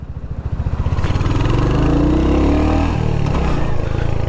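A Royal Enfield Hunter 350 motorcycle accelerating, its single-cylinder thump rising from a steady pulsing idle into a loud continuous rising drone close by, then easing slightly, with no voices.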